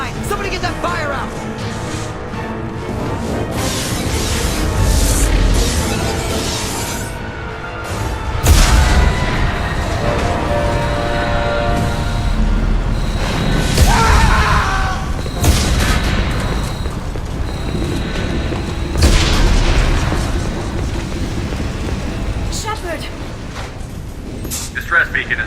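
Explosions rock a starship under attack in Mass Effect 2, heavy booms and rumbling blasts recurring every few seconds amid alarms and shouting voices, loud and chaotic throughout.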